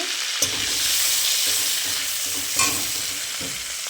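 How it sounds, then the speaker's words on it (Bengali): Cumin seeds sizzle continuously in hot oil left over from frying prawns, a close, steady crackle broken by a couple of scraping stirs. "মাছ ভাজার তেলটা রয়েছে, ওই তেলের মধ্যে আমি একটু জিরে দিয়ে দেবো"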